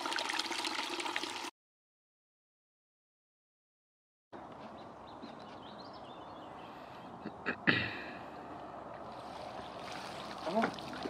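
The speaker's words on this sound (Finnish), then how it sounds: "Tää on tämmönen puro." A small stream flows steadily with a soft, continuous rushing and trickle, broken by a brief gap of silence and a few louder splashes or knocks near the middle.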